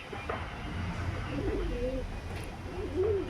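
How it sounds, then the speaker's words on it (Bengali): Pigeons coo softly a few times over a low rumbling background, fairly close. "ওই যে কবুতর"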